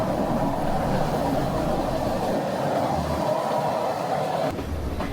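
A train running on the scenic railway to Ella in Sri Lanka gives off a steady, loud rumble and rattle, heard from on board, that holds throughout with a slight change in tone near the end.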